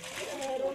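A machete being washed by hand in water, with brief splashing and sloshing running under a voice that talks throughout.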